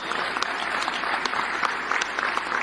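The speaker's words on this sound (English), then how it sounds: "The applause I've been waiting so long for." Audience in a room of mostly conservatives breaks into applause, a dense wash of many hands clapping steadily throughout, with no voices standing out.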